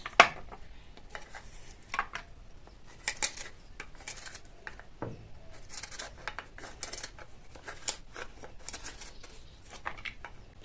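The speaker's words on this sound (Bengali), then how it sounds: "নারকেলটা প্রথমে আগে কেটে নেব, একটা একটা করে আগে তুলে নেব" A whole coconut being cut and pared with a knife, giving scattered scraping and light knocking cuts, some sharper clicks, fairly close and moderate in level with no talk.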